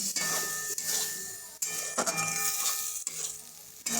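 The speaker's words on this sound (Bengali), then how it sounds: "মশলাটা আমার কষানো হয়ে গেছে" Spice paste stir-fried in a pan for a cabbage and potato ghonto, a steady close sizzle broken by repeated spatula scrapes and clacks against the metal, with no voices.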